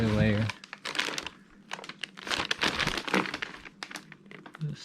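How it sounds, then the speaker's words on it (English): Bubble wrap crinkling and being peeled off a boxed Seibon MB-style carbon fiber wing for a 2021 Toyota Supra, a close run of crackling, rustling bursts with someone talking over them. "So I got the one layer of bubble wrap off."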